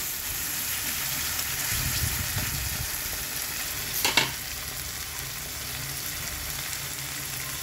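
Ground spice paste frying in oil for a cauliflower and rohu fish dish: a steady close sizzle with stirring scrapes, and a brief sharper spatter midway.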